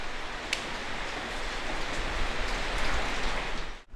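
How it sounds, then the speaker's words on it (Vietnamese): Heavy rain falling outside as a steady, broad hiss that swells slightly over four seconds, with no talking, then cuts off abruptly at the end. "Nghe trời mưa to quá, khổ thân gấu."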